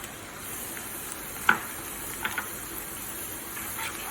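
Butter browning in a pan with sage gives a steady, fairly quiet sizzle and hiss, broken by a few brief sharper crackles and pops.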